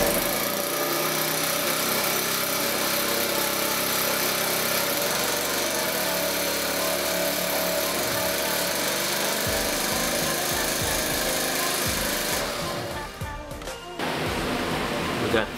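An 80cc motorized bicycle kit engine mounted on a small carrier runs with a loud, steady buzzing drone that fills the clip, then sputters and dips briefly near the end before picking back up.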